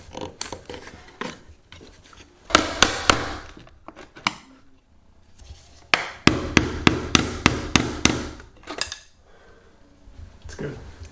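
Hammer taps driving a wooden shim under a door header during a home renovation, a few scattered knocks followed by a quick run of about eight evenly spaced strikes, close and sharp.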